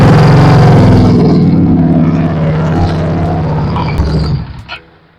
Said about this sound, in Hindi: सो ये है आपके लिए हार्ली डेविडसन का एग्जॉस्ट नोट।